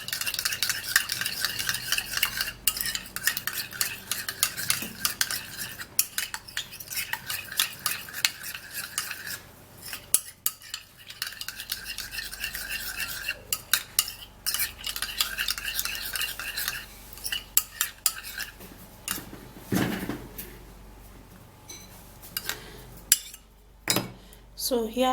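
Homemade rice skin cream, made with oil, is stirred steadily, giving a continuous run of close scraping and clinking utensil strokes with brief pauses.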